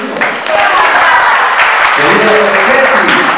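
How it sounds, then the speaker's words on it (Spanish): An audience at a Christmas open-house event gives loud, dense applause that continues steadily throughout, with some voices mixed into the crowd noise. "Yo quiero que les regalen un fuerte aplauso."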